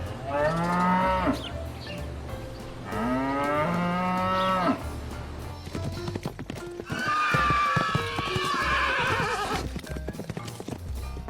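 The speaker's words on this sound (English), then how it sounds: "The cow is a 4-legged mammal that, like the horse, was domesticated a long time ago." Cow lowing on a farm, several long drawn-out moos in a row with pauses between, followed by a rougher, higher bellow near the end, loud and close with no talk.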